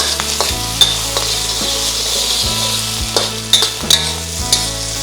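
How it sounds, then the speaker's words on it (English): Spam stir-fried in vegetable oil, a loud continuous sizzle with scraping and clacking of a utensil stirring the pan at irregular intervals, no talking. "I like to stir fry my Spam real quick to bring out some flavor"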